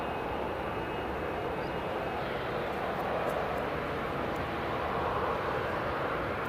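A TUI Airways Boeing 737-800 roars on the runway at Newcastle International Airport, a steady broad jet-engine rumble heard from a distance and holding at an even level throughout.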